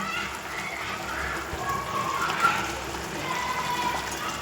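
Eggplant pieces hit a hot pan and sizzle, giving a soft, steady crackle like light rain, fairly faint and constant throughout.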